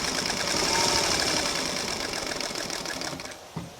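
Sewing machine running steadily as it stitches a homemade fabric face mask along a marked line, a continuous close whirring hum with a slight slowdown and small knock near the end.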